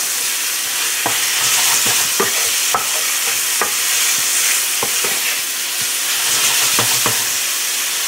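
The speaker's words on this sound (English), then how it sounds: "we're just going to cook down the pork first." Pork cooking down in a pan for spaghetti sauce gives a steady, loud sizzle and hiss throughout, broken by scattered sharp clicks and taps of a utensil against the pan.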